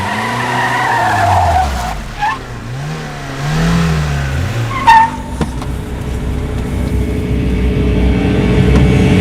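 A car speeds past and brakes hard with a skid and tire squeal, its engine loud and close, then settles into a steady idle-like rumble afterward; no talking.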